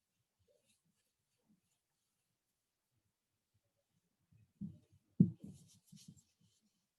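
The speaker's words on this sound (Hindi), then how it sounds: "I am going to right the formula again" Chalk or marker strokes on a board as a formula is written for an economics lesson on index numbers: a few short scratchy marks near the end, close and fairly faint, with near silence before them.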